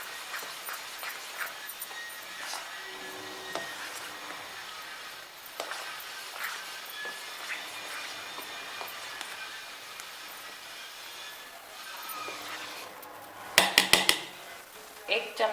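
A spoon clatters rhythmically against a bowl while batter with finely chopped onion is beaten, producing light repeated clinks and scrapes that sharpen into a burst of louder knocks near the end.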